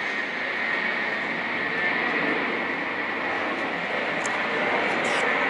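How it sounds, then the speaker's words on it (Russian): An aircraft flying low over the old town streets of Tver, a loud broad roaring drone that holds steady and swells slightly, with faint brief street sounds over it. "летит самолет, и никакой плейнспоттинг не нужен"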